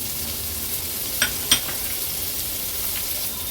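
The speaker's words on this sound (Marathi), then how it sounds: "गॅसवर आपण हा पॅन ठेवला आहे तीन टेबल स्पून एवढं तेल घेऊया मोठ्या साईजचा कांदा एक बारीक चिरून घेतला आहे तो ॲड करते" Finely chopped large onion hitting about three tablespoons of hot oil in a pan on a gas stove, giving a steady close sizzle with a couple of brief louder crackles.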